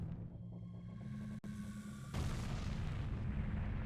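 A mountain erupts in the video game Zelda: Ocarina of Time. A steady deep rumble carries a sharp crack partway through, then swells into a louder, fuller roar that holds to the end.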